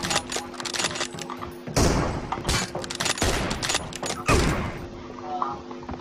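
Rapid gunfire bursts from the PUBG Mobile battle royale game, several loud volleys with brief pauses across the clip, under a faint continuous game tone and background voice chat.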